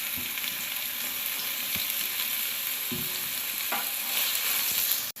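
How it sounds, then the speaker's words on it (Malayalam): Soybeans frying in hot oil for a soybean stew, with a steady close sizzle and a few short stirring knocks against the pan. "ഇതൊന്ന് ചെറിയ ചെറുതായിട്ടൊന്ന് ഫ്രൈ ആയിട്ടുണ്ട്"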